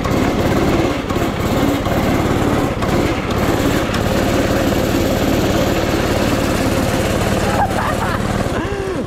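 A mini drift quad's small engine revs hard and continuously up close, a raspy, high-pitched buzz that rises and falls as it tears along the street and slides through corners.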